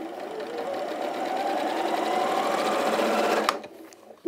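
A sewing machine runs in one continuous, close, steady whir as it stitches across overlapped fabric borders on a pinafore dress, then stops abruptly with a brief clunk near the end.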